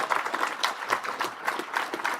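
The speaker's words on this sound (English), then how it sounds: "Yes, it is worth applauding." Audience applause at a CEO awards event, a brief, moderately distant patter of many hands clapping with fairly even, dense rhythm and no voices.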